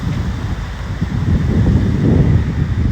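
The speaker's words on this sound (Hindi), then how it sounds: "सूरज के साथ ठंडी हवा चल रही है" A cool wind blows outdoors on a sunny day near a public bus, gusting in steady rushes that buffet the microphone.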